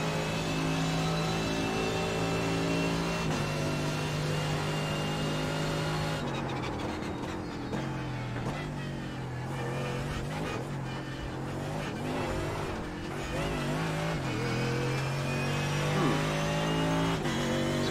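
A Mercedes GT3 race car at Monza in iRacing holds a loud, steady engine drone, then downshifts and revs through a chicane with rising and falling pitch before settling back to a steady pull.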